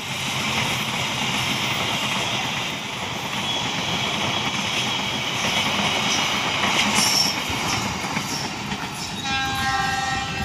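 The Argo Wilis passenger train rumbles past steadily with rolling wheel noise and clatter, and a horn sounds toward the end, loud and close throughout.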